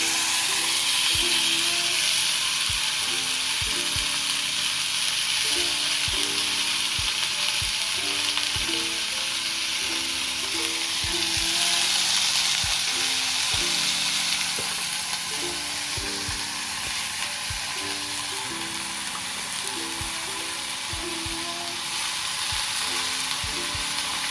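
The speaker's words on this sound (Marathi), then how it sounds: "लसूण छान फ्राय झाल्यानंतर आपण त्याच्यात टाकणार आहोत हा चिरून घेतलेला पत्ता कोबी" Chopped cabbage fries with garlic in a pan, a steady, close sizzle running throughout with repeated clicks and scrapes of stirring.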